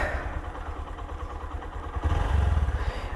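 A Honda motorcycle engine runs steadily at idle on a roadside stop, a low throbbing rumble that grows slightly louder and more pulsing in the final second, with no voices over it.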